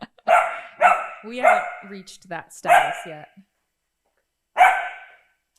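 A small dachshund barks several times in quick succession near the microphone, then once more after a pause, with people talking around the barks in a home setting.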